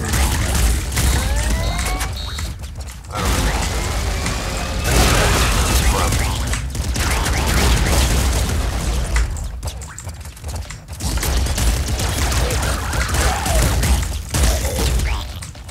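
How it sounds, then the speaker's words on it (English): The Super Flak Cannon fires repeatedly in the game Nuclear Throne, a dense run of booming bursts and shattering pops that plays loud and continuous, with brief pauses between volleys. "Super Flat Cannon is so good."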